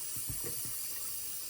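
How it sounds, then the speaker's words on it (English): Water sloshes and splashes in a bowl as rice is rinsed for sushi, a few soft low splashes in the first moments, then a quieter steady wash; close and fairly faint. "First of all, you wash the rice"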